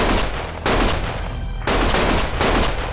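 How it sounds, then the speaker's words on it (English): Heavy automatic gunfire in the game Lost Judgment, three loud sustained bursts separated by short gaps, close and dense with no voices. "Stop shooting!"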